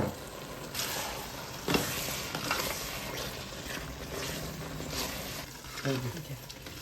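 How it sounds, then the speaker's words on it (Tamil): Onion seeni sambal with sugar is stirred in a frying pan, making a soft sizzle and intermittent scraping as the spoon moves through the mixture, while a voice talks over it. "அப்புறமா இந்த நல்ல கிளறி கிளறி விட வேணும்"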